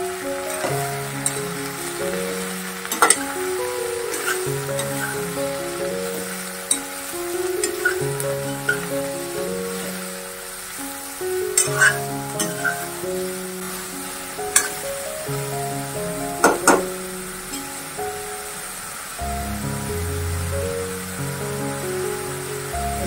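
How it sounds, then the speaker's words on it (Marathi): Mushrooms sauté in a pan with a steady, close sizzle and occasional sharp crackles and spatula taps, under background music. "आता मशरूम घालायचे। हे पण परतून घ्यायचे।"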